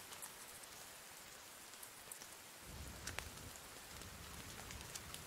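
Steady rain patters on surfaces in the survival game The Forest, a faint, even hiss with scattered drips that thickens partway through, with no speech.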